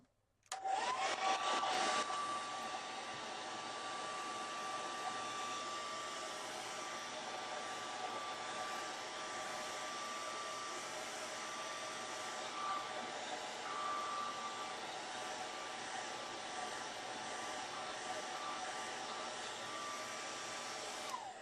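A hair dryer blows steadily on a wet paint layer on a Gelli plate art card, switching on with a brief rising whine, then holding a constant close whoosh for about twenty seconds.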